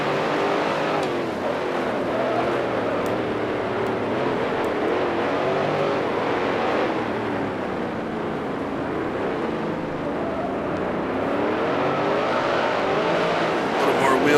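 Racing engine of a 1971 Can-Am car at Atlanta in the driving game Grand Prix Legends: continuous loud, rising and falling engine drone, with rear wheels spinning under power, while someone talks over it.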